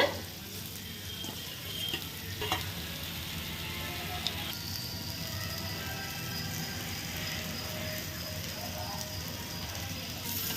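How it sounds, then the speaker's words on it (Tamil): Sliced potatoes and onion fry in a pan with a continuous soft crackling sizzle, with occasional stirring scrapes and a faint knock or two, steady throughout with no talking. "எல்லா பொட்டேட்டோவையும் இதில் ஆட் பண்ணிடுங்க."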